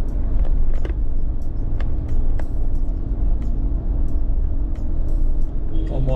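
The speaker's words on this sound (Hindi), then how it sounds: "इस वक्त धनाधन गाड़ी आ रही है भाई, ऊपर से भी पीछे से भी" Cars and traffic climbing the mountain road to Mussoorie in winter, a constant close engine rumble with passing vehicles and small rattles, a voice talking over it.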